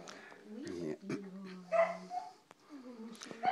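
A corgi nearby gives short yips, whiny barks and whimpers in irregular bursts, mixed with some quiet talk in a domestic setting.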